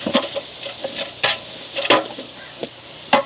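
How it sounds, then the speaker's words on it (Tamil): Onions sautéing in a pan until golden, with close sizzling and repeated stirring scrapes in irregular bursts, no voices. "வெங்காயம் வந்து எங்களுக்கு நல்ல பொன்னிறமாக அப்படியே வதங்கி கொண்டு வருவோம்."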